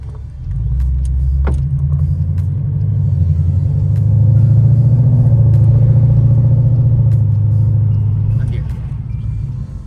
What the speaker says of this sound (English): Alright, let's go for a test drive. Let's see how this thing pulls.